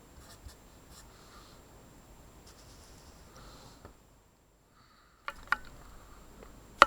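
Someone writes math on a board: faint, intermittent scratching strokes in a quiet room, a short silent pause, then a few sharper taps and strokes near the end.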